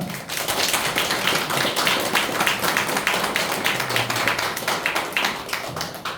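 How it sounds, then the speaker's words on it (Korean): Audience applause welcoming a presenter onto the stage at an indoor seminar, a dense, steady wash of many hands clapping that holds evenly throughout without talk. "큰 박수로 환영하겠습니다"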